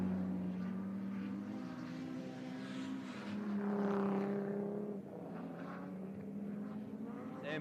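Honda streetstock race cars roar around Ashburton speedway in a CTRA race, a steady loud engine drone with rising and falling revs as the cars circle nearby.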